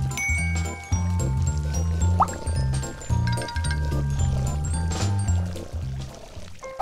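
Water poured into a cat's bowl, a light trickling and splashing set against loud background music and a bright tinkling tone.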